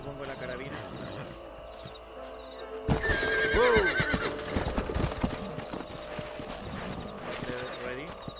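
Red Dead Redemption horse hooves clip-clopping in rhythm, then a loud neigh and whinny partway through, followed by continued hoofbeats and trotting with game voices and other sounds around it.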